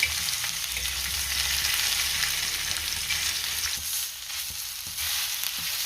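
Onion frying in a pan for a village-style mutton curry, a loud, continuous sizzle heard up close that dips briefly near the end, with faint stirring scrapes.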